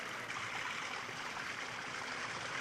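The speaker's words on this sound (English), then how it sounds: "then the water trickles out the little holes, making a small shower" Water trickles steadily out of the small holes in the bottom of a brass kitchen ladle, a soft continuous shower-like patter with no breaks, heard alone and fairly faint.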